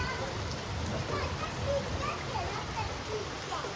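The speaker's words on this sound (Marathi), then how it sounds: "लई पाऊस आलाय जोरान." Heavy, steady rain pours down in a broad continuous hiss with scattered drops splashing on surfaces, close and even throughout; faint voices murmur underneath.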